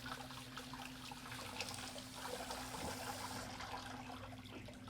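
Water trickles and splashes softly as escargot are rinsed, a quiet, steady wash of running water over a low background hum.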